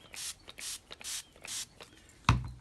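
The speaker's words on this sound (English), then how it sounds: "and then spraying," Four short hissing sprays from a spray bottle onto ink-covered paper in a steady rhythm, close by, followed by a single soft thud.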